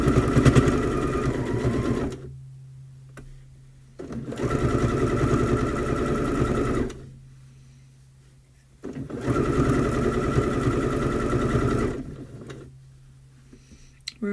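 A sewing machine stitches fabric for a cat hat in three steady runs of rapid mechanical whirring, each several seconds long, separated by brief quiet pauses, close and fairly loud.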